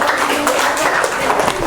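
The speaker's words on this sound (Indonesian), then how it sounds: "beri tepuk tangan untuk kelompok 1" Classroom applause for the first student group, a dense patter of many hands clapping steadily at close range with some mixed voices underneath.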